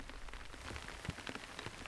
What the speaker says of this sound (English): And then it starts to rain.